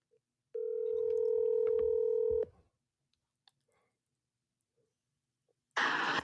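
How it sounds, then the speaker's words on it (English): Two-tone telephone dialing beeps as a call is placed, a steady two-second tone with short pulses layered on it, then near silence and a burst of noise at the end. "I'm gonna call the last homie, Malachi."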